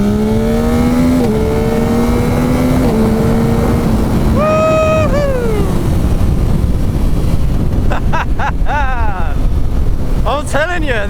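A Yamaha 900cc motorcycle accelerating hard on the road: the engine note climbs through several gears with clear shifts, then revs rise sharply again near the end, all over heavy wind roar.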